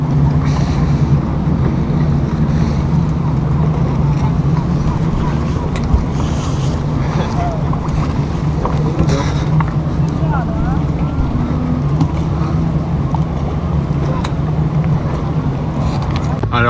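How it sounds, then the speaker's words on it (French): Boats moving slowly on the sea near a patrolling police launch off the Lérins Islands: a steady low engine drone with wind rush and water noise, continuous throughout. "On voit là la vedette de la police qui fait des rondes. Du coup, les jet skis n'approchent plus. Les bateaux avancent doucement."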